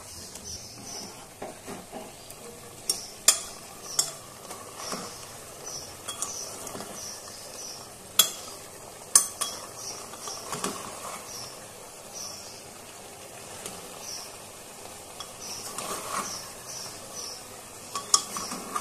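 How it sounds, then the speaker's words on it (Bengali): A spoon repeatedly scrapes and clicks through chicken curry in a pan during slow frying, the strokes faint and irregular over a soft sizzle, with no talking. "তো বন্ধুরা, আবারও ভালোভাবে নাড়িয়ে দিচ্ছি।"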